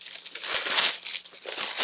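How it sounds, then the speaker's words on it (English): Plastic wrapping is peeled and crinkled off a budget piano tuning kit. Close, loud crackles and rustles come in quick irregular bursts, with a brief tearing edge. "Take the plastic off."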